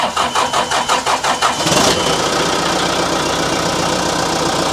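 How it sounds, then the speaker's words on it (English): A John Deere backhoe's diesel engine cranks with a rapid, rhythmic starter churn for under two seconds, then catches and settles into a loud, steady running roar close by. "let's fire this thing up and see if she works"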